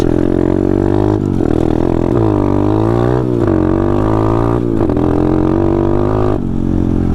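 A pit bike revs hard and climbs quickly through the gears, its engine loud and close with pitch sweeping up and dropping at each shift, running continuously with no voices.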